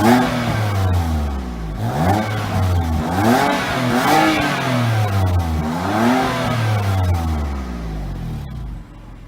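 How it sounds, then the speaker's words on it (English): BMW M4 Competition with a full carbon body kit, exhaust valves shut, revved repeatedly: four loud, deep engine swells rising and falling in pitch in a steady rhythm, heard close from outside the car before settling to idle. "So that was the exhaust with the valves shut, so basically an M1 mode with comfort access"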